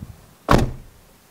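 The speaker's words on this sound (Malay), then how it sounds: "aku cuba tutup pintu pula" A car door, just refitted with a carbon-wrapped side mirror pillar, swings shut with a single solid thud, close by, followed by quiet.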